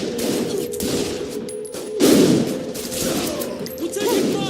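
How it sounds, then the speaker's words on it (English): Rapid gunfire rattles in bursts during a firefight in the video game Saints Row: The Third, with heavier impacts and background game noise, fairly loud throughout. "We're taking fire!"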